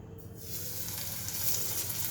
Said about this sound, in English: Fry it till it is brown on both sides